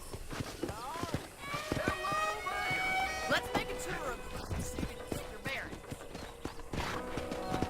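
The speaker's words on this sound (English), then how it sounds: "Okay, let's see if you can still ride a horse." Horse hooves clip-clop steadily while riding in the Western video game Red Dead Redemption, running under game dialogue with a companion and a musical score.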